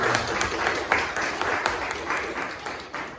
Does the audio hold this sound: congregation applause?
yes